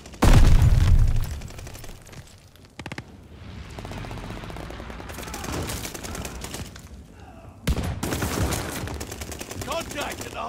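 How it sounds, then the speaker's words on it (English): A sticky bomb explodes in a Call of Duty: Vanguard firefight: a loud opening blast followed by sustained gunfire and further sharp bursts, all layered into a dense, chaotic battle din. "Throwing a sticky bomb."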